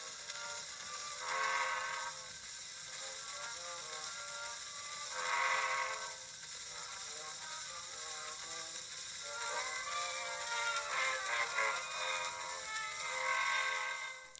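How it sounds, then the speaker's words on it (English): An old Columbia wax cylinder phonograph record plays faintly beneath a steady wash of surface hiss and crackle, thin tonal music rising and falling in swells over about fourteen seconds, with no voices. "Edison's company had competitors who also produced cylinder phonographs, Columbia, and this is what their records sounded like"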